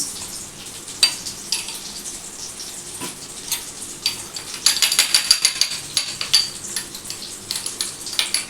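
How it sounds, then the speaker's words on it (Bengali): Cheesy chicken kebabs fry in a pan with a steady high sizzle, turned now and then with soft clinks of utensil against metal, louder crackling in the second half, no talk. "একটু এপিট ওপিট করে ভাজছি"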